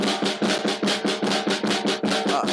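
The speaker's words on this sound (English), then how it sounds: "If you just practice flam taps" Snare drum flam taps in a bop jazz drumming style, a steady run of about thirteen crisp, evenly spaced strokes with grace-note flams, played close and alone without talk.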